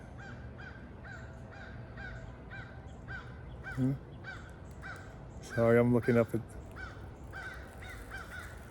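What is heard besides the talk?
crows cawing overhead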